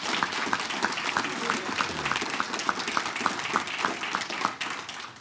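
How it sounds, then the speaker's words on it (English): A crowd at a National Signing Day reception gives the coaches a quick round of applause: full, continuous clapping from many hands, with a steady pulse of louder claps running through it and a slight drop near the end. "How about another quick round of applause for our coaches?"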